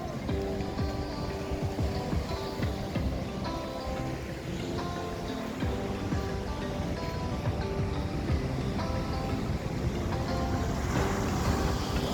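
Sea waves wash steadily onto a beach during a seaside walk, forming a continuous surf hiss mixed with wind buffeting the microphone and no clear voices.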